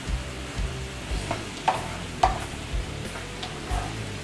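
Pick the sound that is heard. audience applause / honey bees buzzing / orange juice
orange juice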